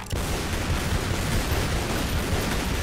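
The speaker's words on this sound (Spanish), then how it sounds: "Entonces, ahora si yo disparo." Gunfire from the video game Lara Croft and the Guardian of Light, heard as a dense, continuous roar of shots and blasts that stays loud from start to finish, with no voices over it.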